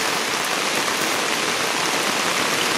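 Steady, heavy rain pours onto surfaces on a mountain path, a loud, dense hiss without breaks and with no voices.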